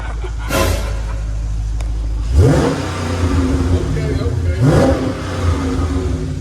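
A Dodge Challenger 392 HEMI with straight pipe exhaust revs close by in two sharp throttle blips that flare into a deep, loud roar over a rumbling idle, with people talking around it.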